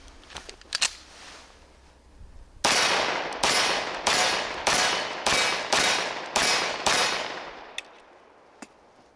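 A SIG Sauer P220 Legion 10mm pistol fires about nine sharp, loud shots at a steady pace outdoors, each with a short ringing echo, after a few light clicks of handling.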